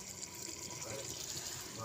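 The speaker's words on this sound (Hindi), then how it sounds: "ये इसमें हमने डालना है ऑयल" Oil poured into a pot of beef karahi whose meat has cooked tender and whose liquid has dried off, giving a steady, close liquid pour and wash of sound that runs unbroken throughout.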